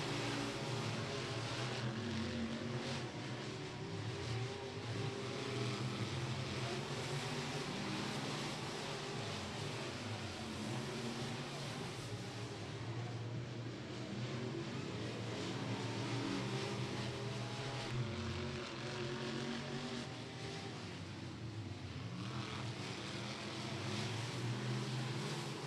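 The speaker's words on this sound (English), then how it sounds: "Sport mods out on the Speedway, continuing to work around the surface." Sport modified race cars lapping the Beckley Motor Speedway dirt oval during hot laps, their engines merging into a continuous roar that rises and falls a little as they circle at a distance.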